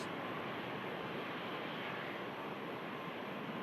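An aircraft engine roars steadily at Manchester Airport, a dense continuous broadband rumble that holds level throughout with no voices.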